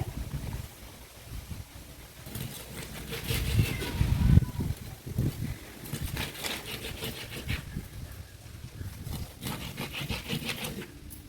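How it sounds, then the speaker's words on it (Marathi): A knife cutting through hilsa fish, also called pala, into pieces, with rough rasping and crunching strokes that swell in the middle of the stretch, close up under low background noise. "हे आपण असे कापून घेऊया"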